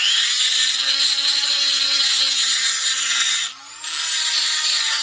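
Power grinder cuts out staked metal on a Suzuki axle U-joint, a steady high whining grind held for several seconds, dipping briefly as the tool eases off, then resuming.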